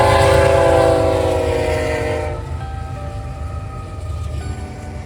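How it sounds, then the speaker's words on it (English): A westbound CSX/BNSF freight train with a trailing Dash 9 locomotive rumbles past up close on the Emporia Subdivision, loud horn tones and steady rolling clatter, the roar gradually fading as the cars move away. "The next train was a westbound Z train with a Dash 9 trailing last."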